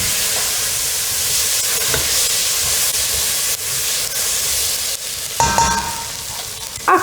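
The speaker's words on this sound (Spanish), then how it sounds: "Luego vertemos coñac. Yo tengo coñac acá, la cantidad que necesitamos para desglasar el fondo de nuestra sartén." Liquid cognac hits a hot frying pan to deglaze the bottom for boeuf bourguignon, a loud steady sizzle and steamy hiss running throughout, with a sharper burst of crackling near the end.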